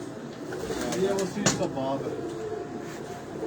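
Pigeons coo in the background, soft low rolling calls partly masked by someone talking over them, with a few brief knocks and rustles.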